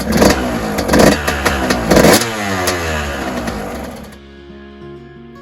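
A KTM 200 dirt bike engine with a stuck, disengaged power valve revs hard in three quick bursts, then settles and winds down to a lower, uneven idle, loud and close.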